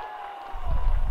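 Applause from characters in The Sims 3 video game, a short swell of clapping and crowd noise rising after a quiet start, over steady background game music.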